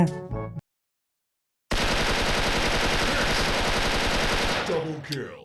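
An M4A1 assault rifle fires a long, fast, continuous automatic burst in the shooter game Special Force, loud and close, preceded by a brief sound and a silent gap, and trailing off into a few scattered mechanical clicks.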